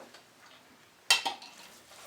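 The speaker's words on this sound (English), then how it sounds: "all I'm doing here now is mixing the gravy, the onions, and the turkey together" A spoon scrapes and clinks against a bowl of gravy, onions and turkey filling for a leftover turkey pie, with one sharp clatter and a smaller follow-up knock over a quiet, soft stirring background.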